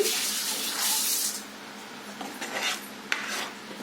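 Tomato puree is stirred into a paneer masala curry in a pan, producing a close, wet scraping and swishing with a few utensil clinks over about four seconds.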